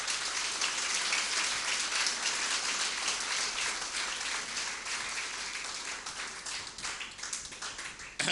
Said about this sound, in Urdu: آئیں یسوع کے لیے تالیاں بجائیں.